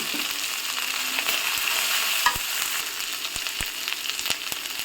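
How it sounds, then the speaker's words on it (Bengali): Ginger sizzles steadily in hot oil in a pan for a Bengali tengra fish curry, a dense crackling hiss with occasional sharp pops and spatters, close and continuous with no talking. "আদার যে কাঁচা একটা স্টিম আছে এটা চলে যাওয়ার পর্যন্ত একটু ভেজে নেব"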